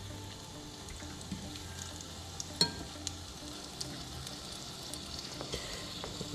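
Fish pieces from a fresh catch deep frying in a fryer, a steady close sizzle and bubbling of hot oil with a few small pops and clinks.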